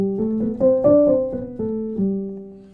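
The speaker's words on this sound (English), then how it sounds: "So that's what creates that kind of muted sound." Soft, muffled piano notes with felt between hammers and strings, played in a gentle sequence, rounded attacks with a dull, subdued tone, close and fairly quiet.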